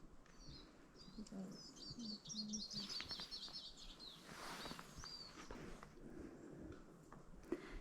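Small birds chirp and twitter in quick bursts against a quiet outdoor background in Cairngorms National Park, Scotland, fairly distant.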